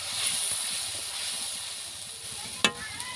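Spice paste mixed with a little water hitting hot oil gives a steady broad hiss and sizzle, with a sharp spattering burst near the end and no talk.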